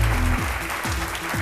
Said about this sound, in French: Je ne suis pas du tout satisfaite des applaudissements